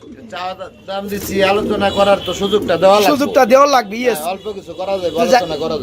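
Bar-coloured fancy pet pigeons coo with repeated throaty, rolling calls, close by, while people talk loudly over them.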